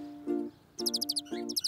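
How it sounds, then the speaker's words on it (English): Short bursts of bright bird chirps and tweets alternate with plucked musical notes in a backing track, moderately loud and close. Three chirp clusters arrive, the last cut off at the end. No one speaks. "You're right. Those are birds."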